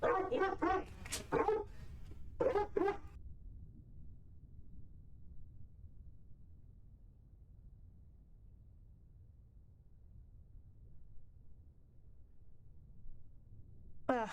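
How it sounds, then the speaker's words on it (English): A streamer's pet dogs give a short burst of rough, close barks and yips at the start, then fall quiet, leaving only faint room noise. "My dogs are trying to tell me it's time to get off."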